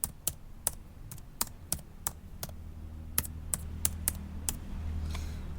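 A name is typed into a spreadsheet on a computer keyboard as about a dozen crisp, separate key clicks in quick irregular succession, close and fairly quiet over a low background hum.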